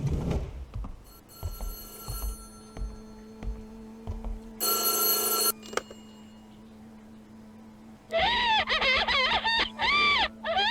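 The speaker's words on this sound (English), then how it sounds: "Phone's ringing." A telephone rings in the White Day: A Labyrinth Named School remake video game, a loud electronic warbling ring that repeats in pulses near the end after a brief bell-like burst and quieter ambient game sounds.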